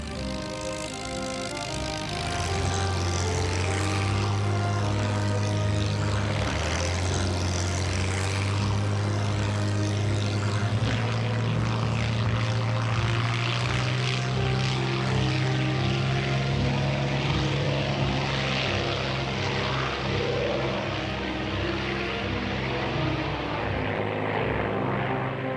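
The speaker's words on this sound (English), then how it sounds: "At the close of every Biggin Hill airshow, Ray would fly his Spitfire as a mark of respect to the Battle of Britain pilots." A Supermarine Spitfire fighter flies a tribute display at the Biggin Hill airshow, its piston engine droning steadily and loudly throughout, with the pitch shifting as it passes.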